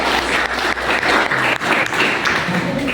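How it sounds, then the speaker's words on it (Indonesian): School audience applauding high-school students at an event, a loud, full burst of many people clapping with a dense, steady texture and slight dips, close and alone without speech. "Kita berikan tepuk tangan kepada mereka."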